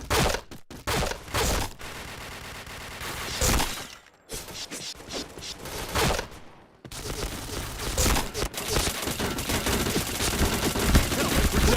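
Heavy gunfire in the video game Point Blank: loud automatic bursts and rapid shots come in clusters, broken by a few brief near-silent gaps, then build into a dense, sustained volley toward the end.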